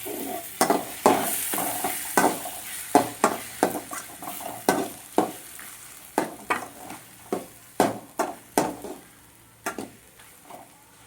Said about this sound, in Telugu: ఇంకా కొంచెం బాగా వేయించుకోవాలండి.